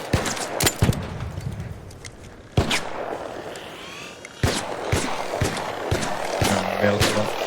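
Gunfire in a PvP video game: several sharp, loud shots stand out near and far, with bursts and a rattling stretch toward the end, over steady background game noise.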